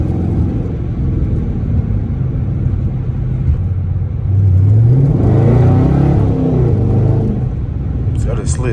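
A Dodge Charger RT on a rainy road with traction control off, its engine rumbling, then revving upward as the car slides, with someone talking over the steady road noise.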